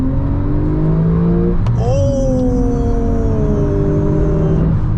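A 2016 Porsche 911 Turbo accelerates hard in second gear after a manual downshift, its engine note sweeping up loud and close with a gear change partway through, under a steady rush of road and wind noise.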